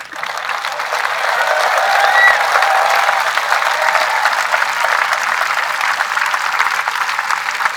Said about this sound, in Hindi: मैं चाहूंगा एक बार अच्छी वाली ताली इन बच्चों के लिए बजाएं